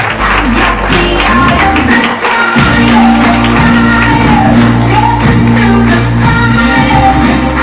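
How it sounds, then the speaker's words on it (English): An audience cheers and shouts loudly while music plays steadily underneath, the crowd noise staying constant throughout. "Big round of applause, everybody,"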